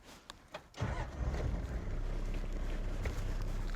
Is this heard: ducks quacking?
no